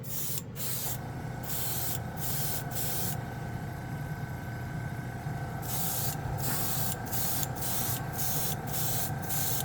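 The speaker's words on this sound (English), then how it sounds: "Oh man, it just sprays and lays down so evenly" An airbrush sprays Mr. Hobby Aqueous paint in a steady, close hiss, broken by short pauses as the trigger is released and pressed again in bursts.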